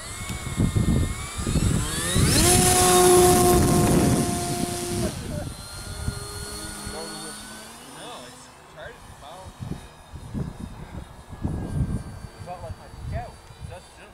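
A homemade RC model airplane's electric motor whines loudly, its pitch rising and falling as the plane passes close. The motor then fades into the distance while people talk nearby.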